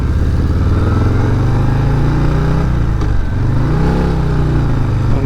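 A 2026 Harley-Davidson Breakout V-twin rumbles loud and close, its deep engine note swelling and dipping through two throttle blips as it revs up and settles back, with no voices over it.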